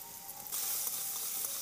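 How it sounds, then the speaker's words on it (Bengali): Potatoes fry in a little oil in a wok with a soft, close sizzle that swells louder partway through and then holds steady. "সামান্য পরিমাণ তেল দিয়ে আলুগুলো ভেজে নেব।"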